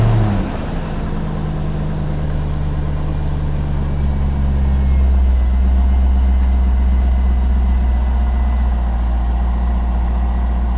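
A 1998 Corvette C5 V8 fires up for its first start after a harmonic balancer replacement, cranking briefly then catching into a loud, steady, deep idle that settles lower after a few seconds, close by.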